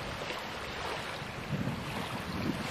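Wind blowing around a small Lynx vertical-axis wind turbine with split PVC rotors, a steady broad rushing hiss with mild gusty swells toward the end.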